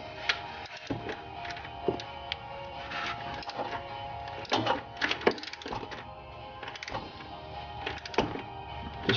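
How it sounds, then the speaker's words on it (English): A shallow 13 mm socket ratchet loosens the clutch slave cylinder bolts on a 2007 Jeep Wrangler Unlimited with a manual transmission. Close, irregular metallic clicks and ticks repeat throughout without speech. "Now we'll disconnect the slave cylinder here using a 13 millimeter"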